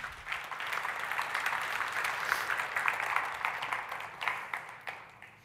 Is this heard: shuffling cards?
no